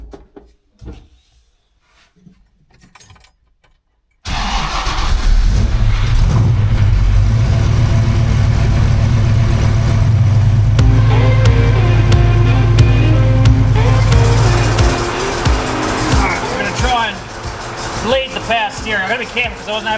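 After a few quiet seconds, a John Goss Special car's engine runs steadily and loudly while warming up, then eases off as people talk near the car.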